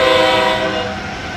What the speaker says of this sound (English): The Acela horn.